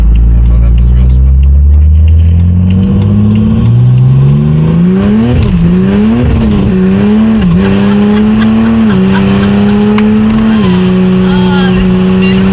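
Loud, close engine of a single-turbo BMW 330D as the car accelerates hard, the pitch climbing through several gear changes with brief dips before settling into a steady high drone.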